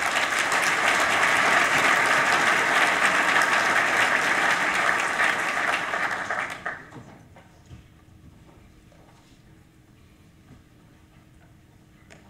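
Audience applause welcoming Rear Admiral Carter at an ethics event: a dense, sustained round of clapping from a sizeable crowd that holds steady for several seconds, then quickly fades to a quiet room.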